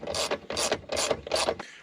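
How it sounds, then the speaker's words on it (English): A ratchet tightening a steel bolt into a plastic thread on a Husqvarna LC22 all-wheel-drive mower, four quick bursts of rapid clicking close up, with no talking. "Got two of these larger plastic threaded bolts to put in."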